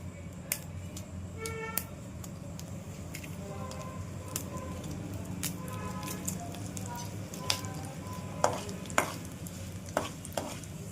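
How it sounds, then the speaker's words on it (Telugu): Two dried red chillies drop into a frying tempering of mustard seeds for a restaurant-style potato curry, making a faint, soft crackle with scattered stirring clicks and sharper taps near the end. "ఇప్పుడు మనం ఈ పోపులోకి ఒక 2 ఎండుమిర్చి వేసుకుందామండి"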